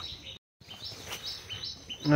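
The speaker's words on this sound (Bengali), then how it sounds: "পাখির আওয়াজ শুনে যাচ্ছে" Small birds chirp and call in a shady mangrove forest near a footbridge at Taki. The calls are brief, repeated and moderately close, with a short silent gap and a louder burst at the end.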